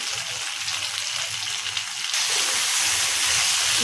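Spiced egg pudding curry with extra chilli powder fries hard in oil in the pan. A loud, continuous crackling sizzle swells a little louder partway through, with no talk.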